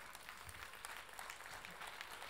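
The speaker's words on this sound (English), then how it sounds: "Yeah, you can clap." Faint, scattered audience clapping at a conference talk, a thin patter of hands at a distance with no voices standing out.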